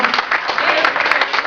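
A church congregation applauding during a Spanish-language sermon, a brief burst of close, dense clapping mixed with voices.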